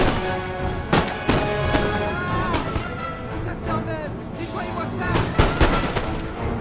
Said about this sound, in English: That Fusilier line just relinquishes a very, very powerful volley.